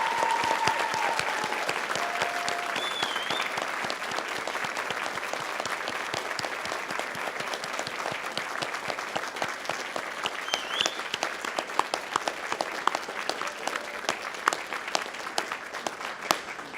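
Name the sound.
graduates cheering and applauding at convocation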